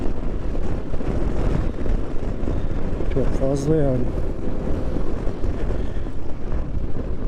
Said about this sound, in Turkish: Mikrofona falan yansıyor mu bilmiyorum ama Gerçekten deli bir rüzgar var.